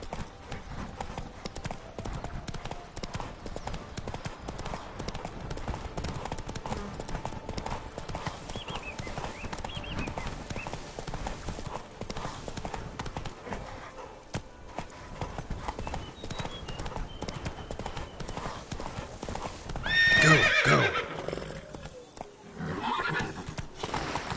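A horse in The Witcher 3: Blood and Wine trots along with a steady, close clip-clop of hooves, then gives a short whinny near the end over a faint background bed.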